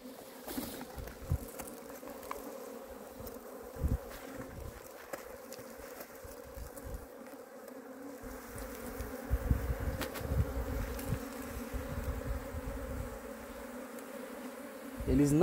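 A honey bee (Apis) swarm buzzes steadily and densely during a hive rescue, a continuous close hum with scattered handling knocks and brief talk underneath.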